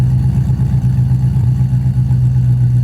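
A Mazda RX-7 FC rotary engine idles steadily and smoothly, a continuous low burble close by with no voices.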